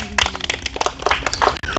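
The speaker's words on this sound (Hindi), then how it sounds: "ताली बजाइए जोरदार" A group claps loudly and rapidly at a gathering in Jaunpur, a short burst of dense, close applause.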